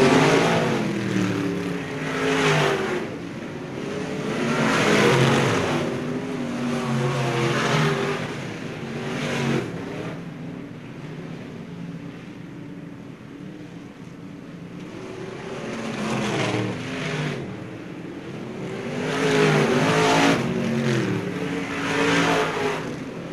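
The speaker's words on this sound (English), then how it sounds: "The green flag means two more laps for Mel Hooper." Race cars roar around a dirt oval at a county speedway, engines surging in repeated loud passes that swell and fade as the pack laps the track, with no talk over it.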